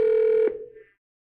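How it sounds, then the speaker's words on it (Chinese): A telephone rings during a live anniversary prize-draw broadcast: one steady electronic ring tone that cuts off after about half a second, with a short tail, and no talk over it. "陈小姐， 接电话， 接你的电话。"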